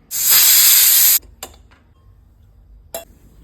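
Pressure cooker holding fresh rajma lets out one loud, sharp burst of steam lasting about a second, then cuts off, followed by a couple of faint clinks.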